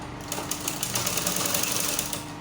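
A sewing machine stitching a petticoat seam for a ball gown hoop skirt gives a steady, rapid mechanical whirr close by, running continuously without pause, with no voices.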